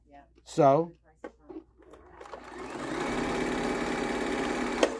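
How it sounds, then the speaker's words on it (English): A sewing machine stitches a quilted table runner, starting after a brief voice and a few small clicks, then running in a steady, fast mechanical whir that builds and holds until a sharp click near the end. "Just go to the machine and start stitching."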